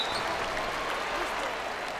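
Home crowd in an NBA 2K18 basketball game, 1993 Finals matchup of the Phoenix Suns versus the Chicago Bulls, cheering as a continuous, even roar of noise at moderate level throughout.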